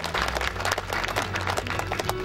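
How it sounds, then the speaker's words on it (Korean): Crowd claps for an award at a gateball and ground golf tournament ceremony, a steady patter of many hands across the whole stretch, moderately loud with a low hum underneath. "박수 부탁드리겠습니다."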